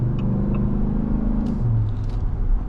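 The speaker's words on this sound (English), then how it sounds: "Wonderful Hemi sound." A 2026 Ram 1500 Laramie's naturally aspirated HEMI V8 gives a deep, rumbling engine note under light acceleration onto a highway in sport mode. The pitch drops slightly near the end, heard steadily from the cabin.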